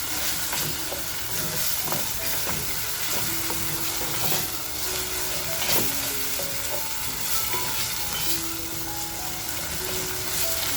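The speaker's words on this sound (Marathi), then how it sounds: "आता बघा हे सुद्धा आपल्याला आहे ना छान असं परतवून घ्यायचं आहे" Masala sautés in a pan for a spicy egg masala, with a constant close sizzle and hiss broken by scraping stirs, and no one talking.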